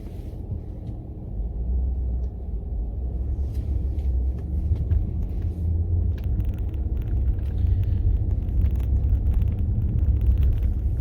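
Jaguar XJ8 X350 V8 luxury saloon cruising on the road, a steady low engine and road rumble droning from inside the cabin without pause, with no talking.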